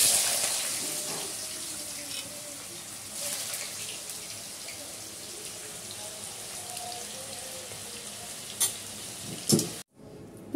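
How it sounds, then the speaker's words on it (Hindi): Potato pieces frying in hot oil give a steady, even sizzle throughout, with a couple of brief sharper clatters near the end before it cuts off. "पहले मैं आलू दे रही हूँ तेल में"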